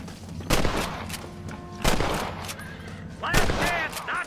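Gunfire in the Red Dead Redemption video game: three loud, sharp shots a second or so apart, each with a short echoing tail, over a steady low rumble of game ambience with a brief whining effect near the end.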